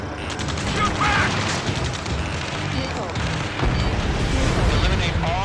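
Gunfire and combat noise from Ace Combat 7: Skies Unknown, a dense, continuous roar of shots and mechanical clatter. It stays loud throughout with a heavier surge late on, and shouted radio chatter runs over it.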